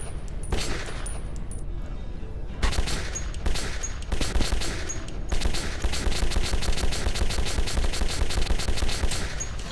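Rapid gunfire from a weapon in the horror shooter Metro 2033, loud close bursts of repeated cracking shots that build into a dense, continuous volley.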